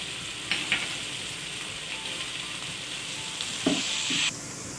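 Onions, tomatoes and spices fry for aloo gobi in a pan, a continuous close sizzle with occasional stirring scrapes and no talk.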